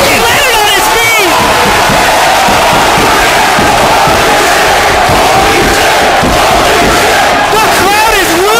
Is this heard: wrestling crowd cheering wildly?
yes